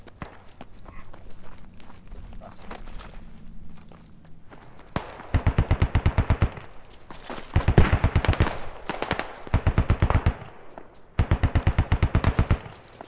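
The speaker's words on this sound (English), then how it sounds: "They got like machine guns and shit holding down the bridges." Machine gun fire in the modded military shooter game Squad comes in rapid, evenly spaced bursts of several seconds each, loud and close, separated by brief pauses, over a low background rumble.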